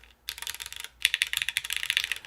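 Mechanical keyboard arrow keys tapped in quick succession, a short burst followed by a longer run of close, crisp clicky strokes with slightly irregular rhythm and no voices.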